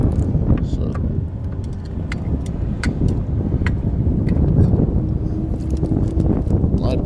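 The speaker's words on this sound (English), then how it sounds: "I have to strap it down because the wind is really blowing" Strong wind blows outdoors straight into a microphone during a Honda Accord 2.4L valve cover gasket job, a steady low rumbling buffet for the whole stretch with a few faint clicks and knocks on top.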